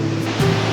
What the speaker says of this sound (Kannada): ರಾಜ ಫಾಲ್ಸ್ ನೀರು ಬೀಳುತ್ತಲ್ಲ